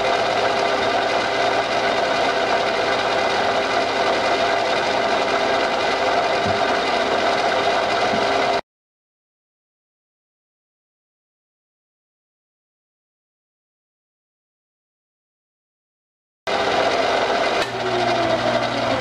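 A power tool grinds steadily through a metal nut with a harsh buzzing whine, then stops dead into silence before briefly starting up again.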